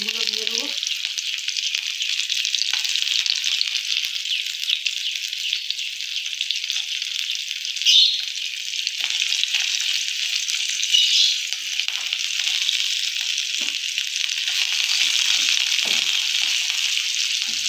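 Onions frying in oil in a pan, a continuous bright sizzle that stays close and fairly even, with a couple of faint stirring clicks and no talk.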